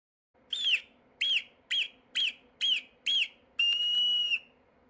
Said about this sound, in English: Marmot.